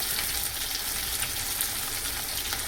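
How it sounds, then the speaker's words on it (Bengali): Ground turmeric, cumin, coriander and chilli powder sizzle and fry in hot oil, a steady, close crackling hiss that continues without a break, with no voices. "মশলাটাকে ভালো করে ভেজে নেব"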